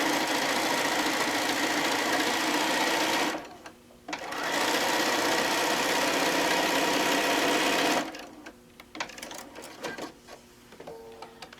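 Sewing machine sewing down quilt pieces, running in long loud steady bursts with a brief pause between them, then slower intermittent stitches at the end.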